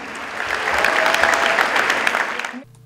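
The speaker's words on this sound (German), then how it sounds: "da gibt es noch einen ganz großen Applaus vom Publikum" A large audience at a district sports gala in Mansfeld-Südharz breaks into big, dense applause. It swells and holds steady, then cuts off abruptly.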